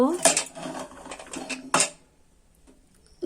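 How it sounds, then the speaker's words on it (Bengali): Metal clatter as a pressure cooker lid is opened on a pot of mutton biryani, with a few sharp clanks and scrapes in close succession, then near silence. "প্রেসার কুকারের ঢাকনটা খুলে নিব।"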